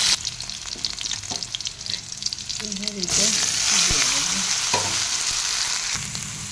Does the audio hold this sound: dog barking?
no